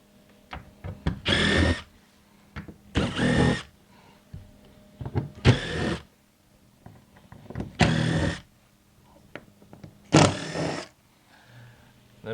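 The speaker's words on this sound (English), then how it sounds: "we're going to start by removing these screws all the way down the column" A power drill drives screws out along a cable slide column, five separate loud bursts of whirring spaced about two seconds apart, each lasting under a second, with quiet handling noise between them.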